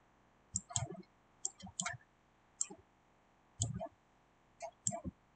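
Mouse clicks while dragging a selection in Photoshop: sharp, close clicks in small clusters of two or three, spaced roughly a second apart, quiet and dry against near silence.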